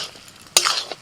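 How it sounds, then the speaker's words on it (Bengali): Green peas tipped into cabbage frying in a pan, one quick bright clatter and scrape of a spoon against the pan over a light sizzle, very brief. "এবার দিয়ে দিচ্ছি মটরশুঁটি,"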